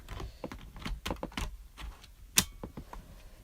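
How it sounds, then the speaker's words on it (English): A laptop battery slides back into its bay with a series of close plastic scrapes and taps, ending in one sharp click as it locks into place. "So now if I slide the battery back in,"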